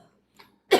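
A single sharp, loud cough close to the microphone after a near-silent moment, short and abrupt.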